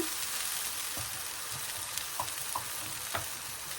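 Ground coriander, turmeric and chili powder frying in a pan, a soft, even sizzle with a few light stirring knocks and scrapes scattered through, fairly faint and with no voices.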